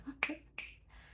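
Two crisp finger snaps about a third of a second apart, close and fairly quiet, in an otherwise hushed room with faint background noise.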